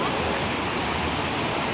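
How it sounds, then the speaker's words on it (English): Saunders Springs waterfall pours a large volume of water in a steady, dense rush, close and even throughout with no breaks or voices. "There's a huge amount of water is going down"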